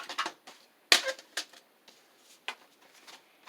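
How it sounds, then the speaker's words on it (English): A file folder is cut down to size by hand, giving a few sharp, separate snips and crisp paper clicks spaced irregularly, close and fairly quiet against near silence. "what I want to do is first cut my file folder down to size"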